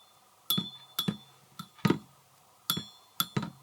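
A thin antique drinking glass is tapped about seven times in uneven pairs. Each tap gives a short, clear ring that fades quickly in a quiet room.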